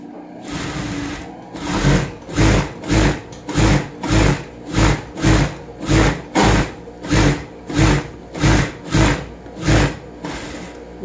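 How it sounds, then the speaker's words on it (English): A sewing machine stitches a summer hat in a steady run of about fourteen evenly spaced loud bursts, each a short whirring drive with a gentle pause between, close by with no talk. "So now let's start sewing. So we start the sewing."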